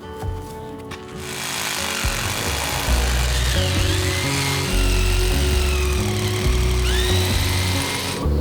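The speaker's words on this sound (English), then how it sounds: "Right, drill." A loud power drill grinds and whirs steadily close by for several seconds, its motor pitch shifting slightly as it bites.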